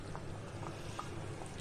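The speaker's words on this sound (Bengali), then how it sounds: "আর একটু ফুটিয়ে নেব।" Fish roe curry simmering in a pot, a faint, steady bubbling with soft pops spaced through the moment, no talking over it.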